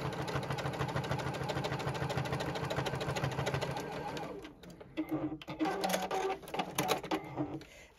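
A JUKI sewing machine runs a seam on a fabric bucket hat in a fast, even stitching rhythm for about four seconds, then stops, leaving lighter handling noises afterward.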